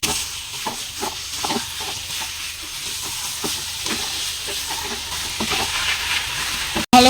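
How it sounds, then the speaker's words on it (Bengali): Taro leaves being stirred into fried spices in a pan, giving a steady sizzling hiss with repeated soft scrapes of the spatula close up and no talk. "এবার মশলার সাথে ভালো করে মিশিয়ে নেব।"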